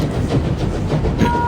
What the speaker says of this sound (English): The train starts slowly picking up speed.